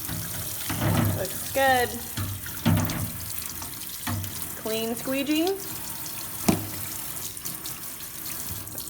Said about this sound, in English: I'm just gonna let that shaving cream go down the sink.